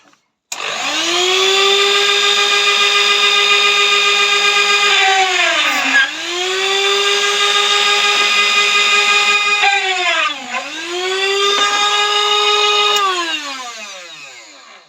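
A homemade drill press runs loud and close, its motor whining steadily. The whine dips briefly three times as the bit bites into the workpiece to drill holes, then recovers. There is no talk.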